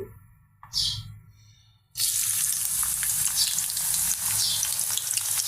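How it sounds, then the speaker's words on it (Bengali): Onions drop into hot oil with cardamom, cinnamon and bay leaf, and after a quiet moment a loud, steady sizzle starts and keeps going close by. "পেঁয়াজগুলো দিয়ে দিলাম এলাচ দারচিনি তেজপাতা সেগুলো দিয়ে দিলাম"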